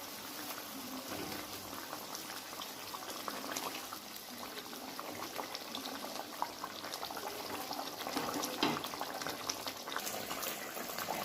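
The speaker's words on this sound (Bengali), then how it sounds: "ঝোলটা ফুটে গেছে, এবার মাছগুলো আমি এর মধ্যে দিয়ে দেবো।" Fish curry gravy for pomfret shorshe curry boils steadily in a pan, with a continuous bubbling simmer and occasional pops, close and fairly quiet, with no talk.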